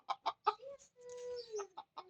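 A chicken clucks in short bursts, with a drawn-out call in the middle, close and fairly clear, with no talking.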